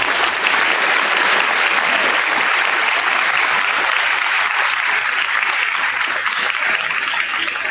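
A school audience applauds new Cum Laude honor society inductees at an induction ceremony, steady dense clapping that fills the room throughout without pause.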